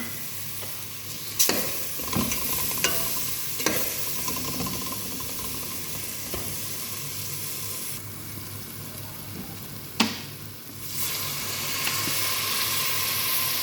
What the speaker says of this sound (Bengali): সালসা টমেটোটা দিয়ে দিলাম।